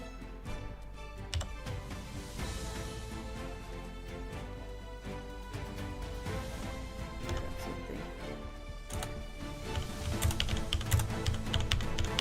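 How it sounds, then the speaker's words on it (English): Slow hunt-and-peck typing on a loud computer keyboard, irregular clacking keystrokes close to the mic over faint background music, steady for about twelve seconds. "I know I type loud."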